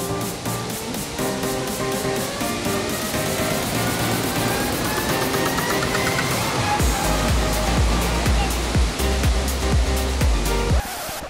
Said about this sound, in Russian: Вы видите этот нереальный водопад?